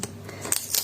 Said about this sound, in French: on va mettre un petit coup de ciseau